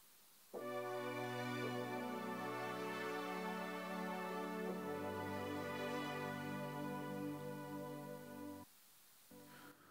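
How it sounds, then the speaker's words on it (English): A sustained synthesizer chord with compression and delay rings out, changes notes midway, then cuts off, leaving a faint echoing tail at the end. "Just the synthesizer now."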